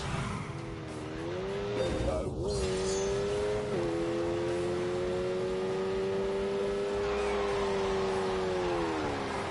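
A Lamborghini engine in The Grand Tour Game on PS4 Pro revs loud and near, the pitch dipping and rising through gear changes, with tyre squeal and skidding partway through.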